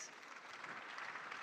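Faint, steady applause from an audience at a startup festival, a soft continuous patter of many hands heard at a distance.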